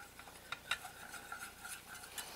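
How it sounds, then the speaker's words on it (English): A whisk stirs a couple of tablespoons of flour into garlic-flavored butter in a pan to start a roux for béchamel sauce, making faint, quick scraping clicks in an irregular rhythm with no voices. "Now I'm going in with my flour, a couple of tablespoons. Mix that up together."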